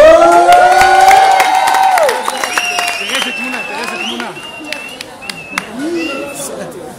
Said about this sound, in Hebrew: כפיים להצגה ולריקוד של ישיבת קרני שומרון